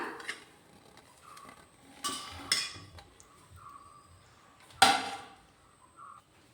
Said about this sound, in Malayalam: എന്നിട്ട് ഇതെല്ലാം കൂടെ നന്നായിട്ടൊന്ന് മിക്സ് ചെയ്തെടുക്കണം